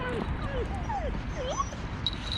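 A dog on a lead at a bowling club in Londonderry gives several short, rising whimpers and yips close by, over steady outdoor background noise.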